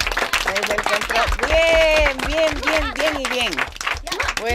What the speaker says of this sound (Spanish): Un aplauso fuerte, que es que en el control no se oye